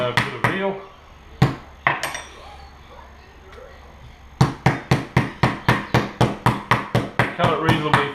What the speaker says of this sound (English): what we're doing is hammering our meat